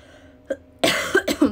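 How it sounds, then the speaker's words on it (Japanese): A person coughs during a late-night livestream, with one small throat sound followed by a quick run of three or four dry, close coughs. "マジで咳だけなんだよね。"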